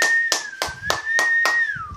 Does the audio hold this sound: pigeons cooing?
no